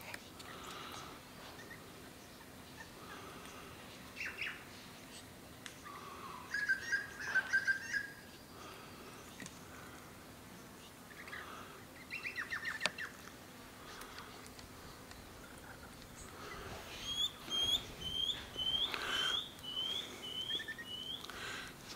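Small birds call and chirp around a bird bath at Loch Sport, with scattered tweets early on and a run of repeated whistled notes near the end, moderately close against a steady outdoor background.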